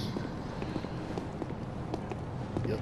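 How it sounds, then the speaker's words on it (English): Enemy footsteps approach in the video game Bloodborne, a steady run of soft thuds and scuffs that stays fairly quiet against a busy, rumbling game soundscape. "I hear their footsteps."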